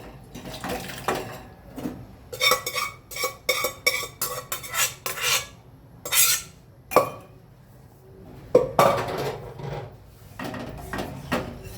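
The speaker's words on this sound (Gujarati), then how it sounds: "હવે આ દાળ આપણે કુકરમાંથી આમાં તપેલીમાં નાખી દઈશું." Urad dal is scooped from a pressure cooker into a pot, with repeated metallic scraping, clinking and stirring strokes in uneven bursts, loud and close, over about twelve seconds.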